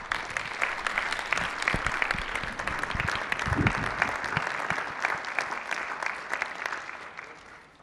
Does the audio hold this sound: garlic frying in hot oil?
no